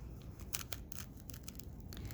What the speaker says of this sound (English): doing this with a box cutter makes it a cleaner cut than if you were using scissors